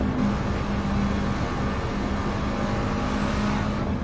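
A Lancia Delta with a swapped engine drives in Gran Turismo 7, giving a loud, steady engine drone and road roar that holds close and constant with no talk.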